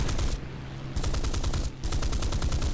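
Mustang Mk Ia aircraft guns firing in a combat flight game, three rapid machine-gun bursts with brief gaps between them over a steady engine drone.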